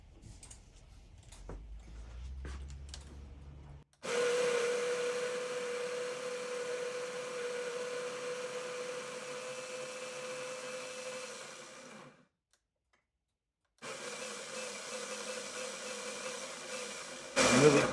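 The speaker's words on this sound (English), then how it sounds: "I'm going to grind this up right now, which we will grind into here." An electric grinder runs on home-roasted dark Nicaraguan Matagalpa Esmeralda coffee beans, a steady loud whir lasting about eight seconds, stopping, then starting again after a short pause, with brief handling noises before it begins.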